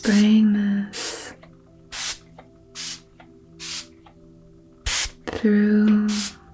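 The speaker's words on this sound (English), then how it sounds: "So I'm just spraying this" Spray bottle misting liquid in short, sharp hissing bursts, about five separate sprays close to the microphone, with soft spoken talk before and after.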